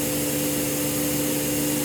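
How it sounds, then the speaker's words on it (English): Miele S7 Bolero upright vacuum cleaner running with its brush roll on, a loud, steady motor whine and airflow hiss throughout, no talk. "Now we'll turn the brush roll on."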